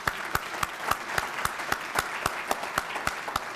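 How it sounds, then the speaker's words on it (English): Audience applause at a Chamber business luncheon for a State of the County address: dense steady clapping from a crowd, with distinct sharp individual claps in a regular beat cutting through, no voices over it. "Let's give everyone a great round of applause."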